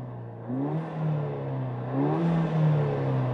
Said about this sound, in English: We're gonna give it some revs.